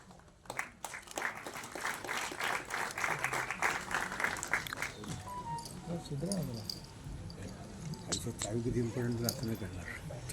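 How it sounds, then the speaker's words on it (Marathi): An audience bursts into loud applause at a book launch ceremony, the clapping swelling for several seconds before fading as an amplified voice carries on speaking over the hall. "जोरदार टाळ्या वाजवूया आपण"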